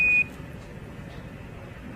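Apollo 11 lunar module program alarm during the lunar descent: one short, loud, steady electronic tone at the very start, then broadband radio hiss and static for the rest.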